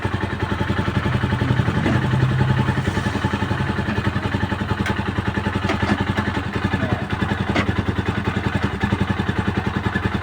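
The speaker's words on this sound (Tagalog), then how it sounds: "Painitin lang po natin ng konti yung makina." A Rusi 175 2024 motorcycle engine idles steadily to warm up, a loud, close, even mechanical putter with a rapid regular pulse and light clatter, no revving and no talking.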